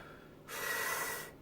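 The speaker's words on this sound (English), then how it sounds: "I start doing 10 breaths." One forceful Wim Hof Method breath, a single sharp rushing inhale lasting just under a second, close and loud, with quiet before and after.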